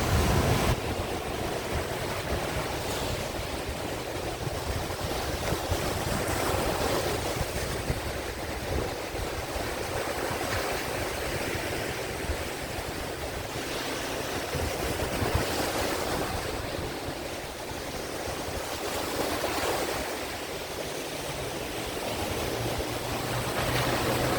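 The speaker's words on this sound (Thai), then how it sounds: "เดี๋ยวจะให้ชมคลื่นมันหน่อยนึงอ่ะ" Ocean waves roll onto a beach near a golf course, a steady broad wash of surf with swells rising and easing over about twenty-four seconds, mixed with some wind noise and no talking.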